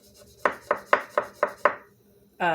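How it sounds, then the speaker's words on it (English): A knife chops a whole nutmeg on a board: six crisp, evenly spaced chops in a quick row, close and clear, then a short scraping rush at the end. "You can just take it and you can just shave it off with the side of your knife."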